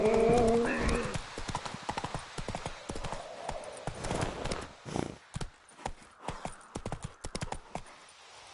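Hooves of the horse Roach clip-clopping at a quick gallop in The Witcher 3 video game, with a whinny at the start and a steady rapid rhythm running close throughout.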